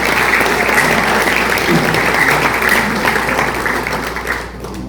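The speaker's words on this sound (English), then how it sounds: "Please give another round of applause for Lonnie Davis." Audience applause for storyteller Lonnie Davis at an Appalachian storytelling stage event, a dense, steady roar of many hands clapping that carries loudly throughout and begins to thin and fade near the end.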